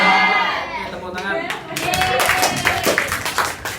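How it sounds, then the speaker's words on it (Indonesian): A class of students claps hands in a classroom; a scattered burst of many claps builds after a short moment and continues steadily, with voices murmuring underneath. "Oke, tepuk tangan."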